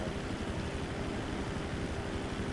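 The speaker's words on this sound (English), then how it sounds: "This plane actually gives off a nice quiet humming sound that I like. Sounds like an industrial fan." A propeller plane in GTA Online gives off a steady, quiet, fan-like hum with a faint tonal whine, unchanging and alone throughout.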